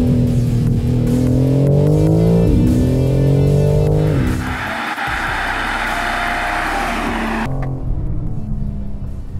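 A BMW M4 Competition xDrive accelerating hard, its engine note rising through climbing gears, a brief shift dip, then a roaring, rasping pull before the sound cuts abruptly, loud and close throughout.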